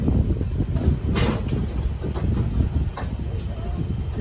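Indore Chandigarh Express pulling into Shivpuri station in Madhya Pradesh, a steady loud rumble of wheels and carriages with faint clatter, heard from aboard the train and continuing throughout.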